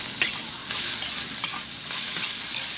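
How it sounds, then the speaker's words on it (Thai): Fried rice with Chinese sausage being stir-fried over high heat in a pan, a continuous close sizzle with several sharp spatula scrapes and clacks against the metal. "ผัดไฟแรงเลยนะคะเพื่อนๆข้าวผัดเราจะได้หอม"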